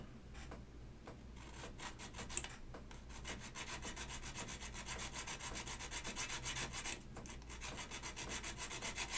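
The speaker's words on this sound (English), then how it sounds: "So we're almost there, filing that down." Hand file rubbing back and forth on a mechanical keyboard part during hand fitting of a GSKT-00 board with Alps SKCM Cream switches, a steady rasping scrape with regular strokes, fairly faint and close, with no talking.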